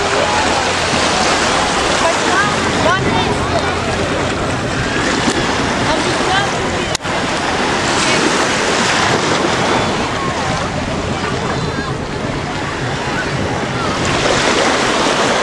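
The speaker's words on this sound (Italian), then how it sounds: "Eccomi, io sono qua al mare." Sea waves wash steadily onto an Italian beach near bathing establishments, a dense continuous roar of surf mixed with wind buffeting the microphone, loud and close throughout with one brief dip.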